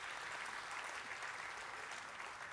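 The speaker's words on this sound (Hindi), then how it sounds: "एक बार सारे लोग तालियां बजाकर मुझे आदेशित बताएं" At a Hindi poetry gathering, an audience claps on request, giving a faint, steady, distant patter of applause with no pauses.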